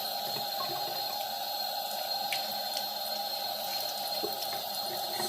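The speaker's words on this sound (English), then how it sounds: "Before you throw your dirty socks into the laundry, you must rinse it." Water runs steadily from a tap as dirty socks are rinsed during a rest day off the Arizona Trail, a constant splashing hiss close by with no voices.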